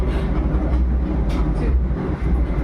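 Inside the Vande Bharat Express, a steady low rumble of the moving train continues throughout, with faint rattles over the hum and no voices.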